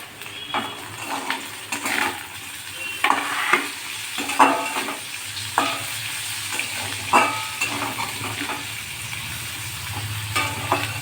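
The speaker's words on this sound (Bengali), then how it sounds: "এবার আমি লঙ্কা কুচি আর টমেটো কুচি দিয়ে দিচ্ছি।" Fried potatoes with chopped green chilli and tomato stir-fried in a pan, a soft steady sizzle under repeated scraping stirs of a spatula, close, with no voices.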